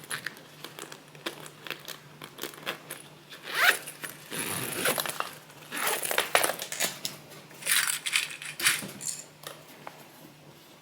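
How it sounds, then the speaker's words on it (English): A zipper on fabric for a sewing project is opened in several short, scratchy pulls close by, mixed with rustling and crinkling of material and small clinks, no voice. "I'm going to unzip this."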